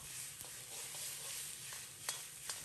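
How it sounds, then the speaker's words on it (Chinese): Yam, wood ear mushrooms and green peppers are stir-fried in a hot wok with scallion oil. A soft, steady sizzle runs throughout, broken by a few light clicks and scrapes as the food is tossed. "放入所有焯水的食材，简单翻炒扒拉两下"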